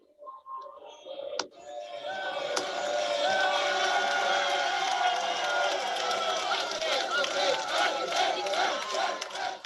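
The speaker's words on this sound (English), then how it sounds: "the passion of the townspeople cheering for their district to win was so moving" Townspeople in a Tuscan town roar and cheer for their district during the Bravio, an uphill barrel race through cobblestone streets; a dense, sustained crowd clamor of shouts and cries rises after a brief sharp bang and continues loudly throughout.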